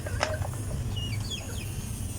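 Chickens cluck and squawk faintly over a constant low background hum, with a few brief calls scattered through the moment.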